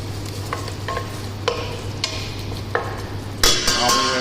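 Ginger garlic paste frying in a pan for an Indian-style taro root curry, with a steady sizzle beneath repeated scraping strokes of a spoon stirring it, louder clatter toward the end.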